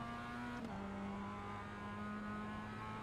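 A Mazda MX-5 race car in iRacing during a Global Mazda MX-5 Fanatec Cup race, engine droning steadily with a brief shift or throttle blip early on, then holding a constant tone, no voices.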